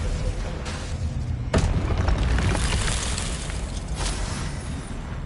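The Descendo spell is cast in the video game Hogwarts Legacy, a sharp booming impact that slams down early and leaves a rumbling, crackling tail of magical effects layered over continuous game ambience.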